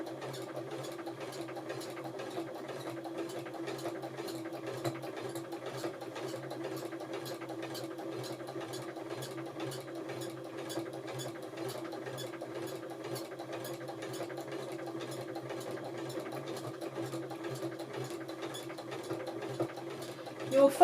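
Sewing machine stitching a quilt, a fast, even mechanical whir with a steady needle rhythm running continuously at close range for about twenty seconds.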